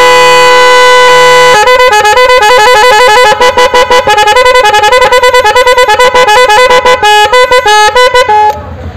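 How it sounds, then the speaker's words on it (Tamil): A loud echo car horn honks in rapid pulsing bursts, its tone stepping and echoing in a rhythmic pattern, close and continuous for several seconds. "இப்போ ஹார்ன் அடிச்சு விட்டால் இது வந்து எக்கோ ஹார்ன்"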